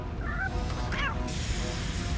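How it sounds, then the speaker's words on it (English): A cat meows a couple of times, blocking a path through fire in the video game RoboCop: Rogue City, with low game rumble and ambience underneath. "There's a cat. We cannot go through."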